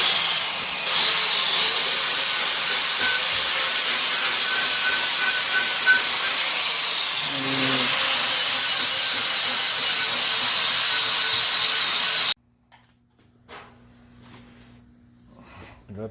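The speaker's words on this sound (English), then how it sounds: "Doing a little bit of weld prep, cleaning the rust off, chamfer the ends." An angle grinder cleaning rust off recycled steel and chamfering the ends for welding a Massey Ferguson lift boom, a loud, sustained high whine for about twelve seconds with a brief dip in pitch midway, then stopping abruptly into quiet shop noise.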